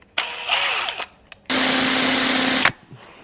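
A power drill whirs briefly, stops, then runs again in a steady, loud, high-pitched whine for about a second before cutting off, drilling parts for a 450cc kart build.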